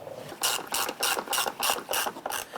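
A hand ratchet tightens the fasteners on the rear bumper of a 2015-2020 Cadillac Escalade, its clicks coming in about seven quick, evenly spaced bursts, close by and fairly loud, with no talking.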